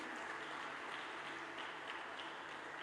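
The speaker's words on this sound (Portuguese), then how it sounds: "Vamos aplaudir nossas crianças aqui, irmãos?" Faint, distant applause from a church congregation clapping for children, a soft, even patter of hands that continues without a break for a few seconds.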